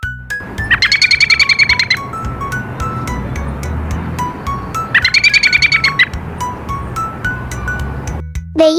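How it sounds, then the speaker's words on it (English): An American robin calls in two bright, rapid bursts of high chirps, each lasting about a second, with quieter single tweets between them over a low background rumble. "The American robin lives in gardens, parks, and forests across North America. This is the sound they make when they communicate."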